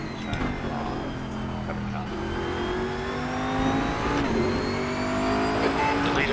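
A GT-class race car in the RaceRoom racing sim at Road America, its meaty engine droning and revving steadily with rising pitch sweeps, tire noise underneath and a voice talking over it.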